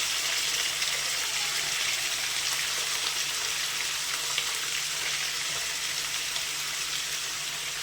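Chicken frying in a pan for chicken fry bagara rice, a steady loud sizzle with crackling oil that continues evenly throughout, with no talking.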